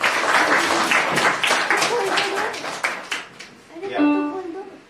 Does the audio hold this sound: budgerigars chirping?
no